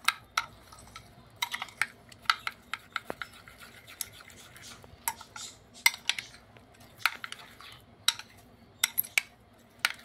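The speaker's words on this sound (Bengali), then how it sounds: "দিয়ে এইভাবে খুব ভালো করে মিশিয়ে নিতে হবে।" A spoon stirs raita to mix in sugar, giving sharp, irregular clinks and scrapes against the bowl that come faint and close in quick bursts.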